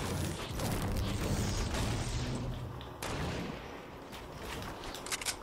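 Bursts of gunfire ring out in the video game Fortnite in a snowy setting, rapid cracking shots in clusters with a brief pause midway, moderately loud and without speech.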